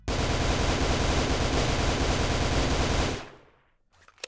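Continuous rapid gunfire from a gun in the Roblox VR video game, a loud dense burst sustained for about three seconds before cutting off into near silence.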